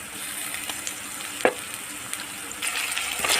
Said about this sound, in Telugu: ఉల్లిపాయలు వేగిన తర్వాత ఇందులో కొంచెం అల్లం వెల్లుల్లి పేస్ట్ వేసుకోవాలి